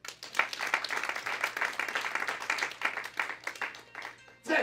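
A church congregation breaks into sustained applause, a dense wash of many hands clapping at close range that continues steadily before a brief pause, with faint voices mixed underneath.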